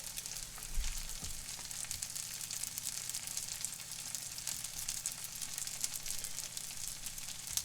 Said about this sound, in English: Heat oil in saucepan, medium heat. Brown breadcrumbs.